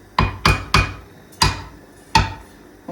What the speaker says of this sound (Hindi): ढक्कन दे देंगे